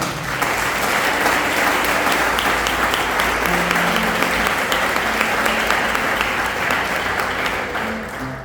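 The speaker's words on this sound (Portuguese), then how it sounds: "mostra para Deus, aplaude Ele aí, irmão" A church congregation bursts into sustained, dense applause at a worship service, steady and loud throughout with a faint voice underneath.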